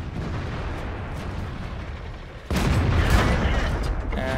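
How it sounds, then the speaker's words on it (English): Tank cannon fire in the World of Tanks video game: a low rumbling battle bed broken at mid-clip by a loud, sudden blast that rolls on as a heavy boom, close and forceful. "there's a Burt shooting at us"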